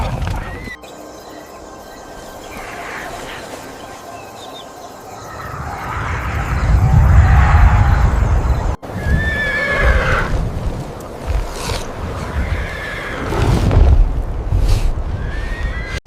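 A herd of horses whinnies and neighs repeatedly over a steady patter of hooves, the sound growing louder and busier partway through, with several overlapping calls near the end.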